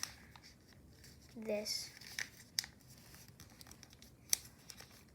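Origami paper being squash folded while making an aircraft carrier model gives brief, soft crinkling rustles and a few sharp paper clicks, close by, with a voice speaking quietly over it.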